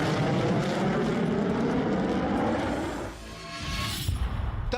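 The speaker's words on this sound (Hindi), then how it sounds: "तब कुल मिलाकर 20 फाइटर जेट्स आसमान में एक साथ उड़े।" Formation flight of about twenty South Korean and US fighter jets, including F-35s and F-15s, producing a dense, steady broadband jet roar that dips briefly and then swells again, loud and continuous.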